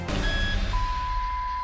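A couple of short electronic beeps from a cash register followed by one longer sustained beep tone, clear and close over a low background rumble.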